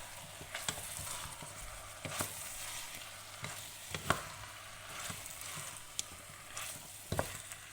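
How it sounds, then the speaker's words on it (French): Meat sears in a pot for a daube provençale, a steady close sizzle with occasional clicks and taps of stirring, no talking. "On fait bien saisir la viande."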